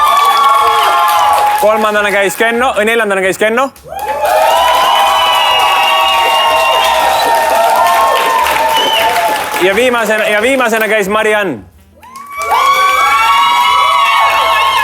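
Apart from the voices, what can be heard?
audience applause and cheering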